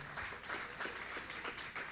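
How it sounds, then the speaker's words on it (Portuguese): A church congregation applauding during a sermon, a faint patter of scattered hand claps with a soft, slightly uneven rhythm over a short stretch. "Vamos aplaudir a Jesus por isso."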